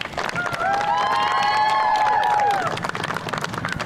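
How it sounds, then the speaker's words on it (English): Crowd at a girls' high school softball senior night between Corry Beavers and Cathedral Prep Ramblers claps and cheers loudly and steadily, with high whistles and shouts rising over the applause midway. "How about a big round of applause for all of our seniors."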